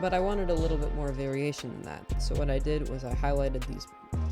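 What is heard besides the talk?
No distinct noise like a dog, phone or traffic.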